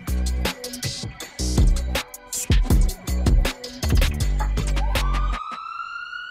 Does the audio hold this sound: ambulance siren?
yes